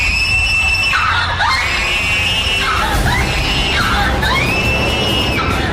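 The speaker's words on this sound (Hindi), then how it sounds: "नैना के कमरे से उनको जोर जोर से चीखने की आवाजें आई।" Loud, sustained screaming from a woman's room at night in a horror setting, a series of long wailing shrieks rising and falling, close and continuous with no speech.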